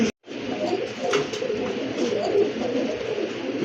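A male pigeon in a dealer's pigeon collection coos in low, rolling, repeated calls, close and steady against a quiet background hum.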